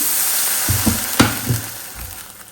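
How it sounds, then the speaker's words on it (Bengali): Hot oil poured into gram flour batter for fritters crackles and sizzles in a continuous hiss, with several sharp bursts of spattering and a few soft knocks. No one speaks. "এখন এর ভিতরে আমি দিয়ে দিব হচ্ছে একদম গরম তেল"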